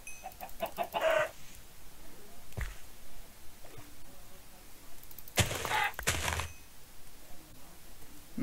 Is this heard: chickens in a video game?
yes